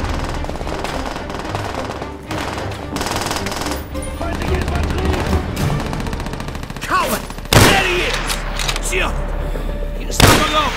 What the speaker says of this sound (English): The sounds of battle.